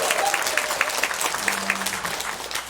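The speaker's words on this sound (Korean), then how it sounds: "박수 한 번만 보내주세요." A church congregation at a Sunday worship service claps for a choir leader, a dense, even patter of many hands in a large room with a faint low tone underneath.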